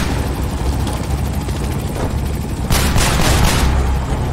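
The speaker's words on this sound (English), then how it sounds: "To lose the damn helicopter." A helicopter in the video game Manhunt 2 gives a steady, loud, noisy rotor drone with bursts of gunfire-like crackle partway through, and no voices are heard.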